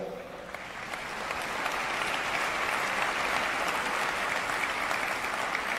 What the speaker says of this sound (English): I'm wary of all these clapping hands